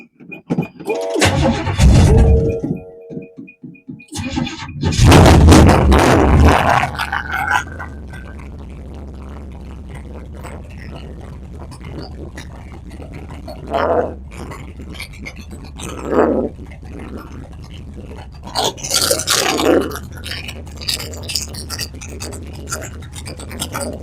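Car engine cranking and starting in short bursts, then settling into a steady low idle with occasional revs and clatter; no talking.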